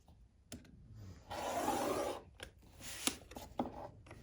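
Rotary cutter slicing through layered quilt fabric along a ruler, a steady soft rasping cut lasting about a second, framed by small clicks and handling taps; close and fairly quiet.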